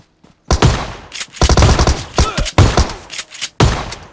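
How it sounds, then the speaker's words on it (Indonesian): Gunfire in the video game PUBG Mobile comes in sharp, loud bursts, several rapid volleys of shots separated by brief gaps, close and punchy. "aduh, ditembak dong."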